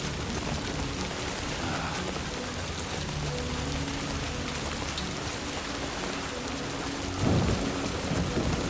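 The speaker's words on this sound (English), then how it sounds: "I already wasn't a big fan of rain in general, but rain that makes you age?" Heavy rain in the Death Stranding 2 video game, a dense steady downpour with a low thunder rumble swelling near the end, loud and unbroken with no speech.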